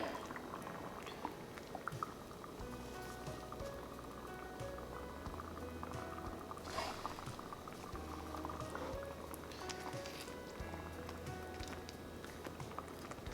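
Onion and ginger oil cooks on a stovetop set to 3 in a home kitchen, giving a steady bubbling simmer with soft patter that continues without a break and at a fairly even level, with a low hum running beneath it.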